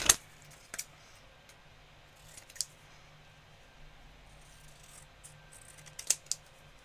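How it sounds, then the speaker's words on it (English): Scissors cut out a paper mat for a handmade card, with a few sharp, close snips spread out over quiet pauses, including two quick cuts near the end. "I'm just going to cut this out using my scissors."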